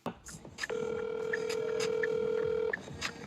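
A telephone rings with a steady electronic tone, one long unbroken ring lasting about two seconds, heard fairly clearly over light background noise and just ahead of an automated voice message.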